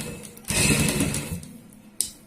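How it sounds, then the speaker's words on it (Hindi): A sewing machine stitches a seam along one side of a fabric strip, a close, steady mechanical whirr running for about a second and a half before stopping, then a single sharp click. "एक साइड में यहाँ पे सिलाई लगा देंगे इस प्रकार से।"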